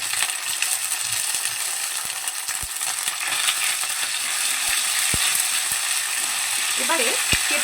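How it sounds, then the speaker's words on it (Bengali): Spice tempering sizzles steadily in hot oil as ginger paste goes in, a continuous close frying hiss with a few sharp clinks of a utensil against the pan. "ফোড়নটা হালকা ভেজে নেব। ফোড়নটা ভেজে নেওয়া হয়ে গেছে, এবারে এর মধ্যে কিছুটা পরিমাণে আদা বাটা দিয়ে দেব।"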